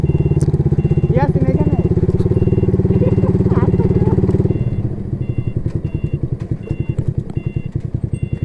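A Yamaha R15 V3 motorcycle engine runs close by on a university campus, a loud steady throb that drops into a rougher, pulsing idle partway through. Faint beeps and brief voices sit under it.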